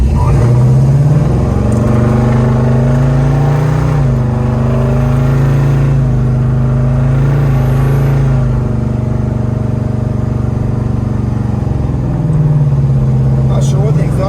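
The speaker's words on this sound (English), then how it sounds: "Not sure what the exhaust on this car is, but it sounds awesome." Exhaust and engine of a 1971 Chevrolet Chevelle SS with 4-wheel disc brake conversion while driving, a steady deep rumble swelling and easing throughout, close and loud, with a hint of talk.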